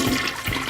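A toilet flushing with a steady rush of swirling water, loud and close, filling the whole moment without any talking.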